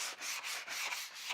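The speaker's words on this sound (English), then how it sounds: "I will just take a sanding block and just run it across a couple of times" Sanding block rubbed briskly back and forth across shiny food packaging, a close, steady rasping scrape in several quick strokes.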